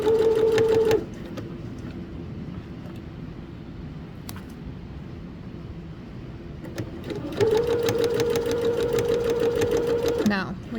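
A sewing machine stitches a seam in two loud, rapid mechanical bursts at the start and near the end, with a person talking quietly in the pause between them.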